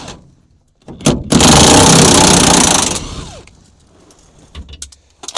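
A power tool roars in one loud, sustained burst of about two seconds, snapping off a bolt beneath an abandoned Chevy S10 near the leaf spring, with quieter clanks and handling noises before and after.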